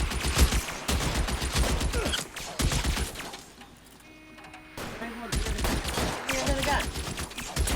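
A shootout in L.A. Noire: bursts of rapid gunfire crack back and forth, loud and close, broken by a brief quieter lull with tonal ringing before the volleys resume, while voices shout over the action.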